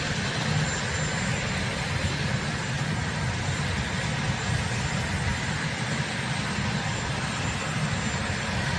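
The presidential helicopter roars in a dense, steady engine and rotor wash, loud and unbroken throughout, with no voices heard.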